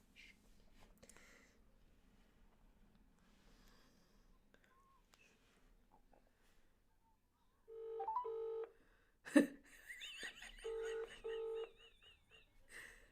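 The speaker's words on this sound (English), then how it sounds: "I'm going to get Mum on the phone on the video." A phone is dialed for a loudspeaker call at a home dinner table: two bursts of clear, fairly loud keypad tones and a sharp click, after faint talk and breathing.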